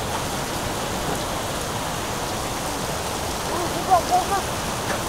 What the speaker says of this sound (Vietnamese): mưa to lắm này